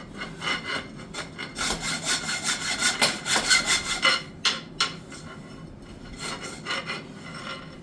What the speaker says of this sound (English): cutting evenly all the way around and then we'll go through the wire